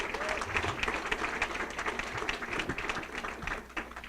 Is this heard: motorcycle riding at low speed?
no